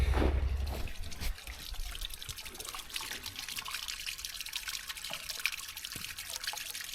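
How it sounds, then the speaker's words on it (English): Spring-fed water runs and trickles steadily into concrete livestock drinkers beside farm barns, a close continuous splashing flow with small drips, after a brief louder bump at the start. "we've got perfectly good ice-free running water."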